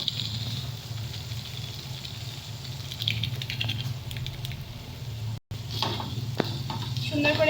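Spiced bread snack being stirred and mixed in a frying pan, a steady low sizzle with scraping and patter running throughout, close and continuous, with a brief dropout near the middle.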